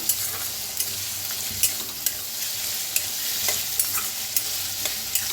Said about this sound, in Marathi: मसाला सगळा असा भाजून घेऊया.